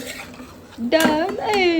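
Pasta being stirred into gravy in a kadhai at home, a few short metallic scrapes and clinks of a spoon against the pan, close and clear, while someone talks over it.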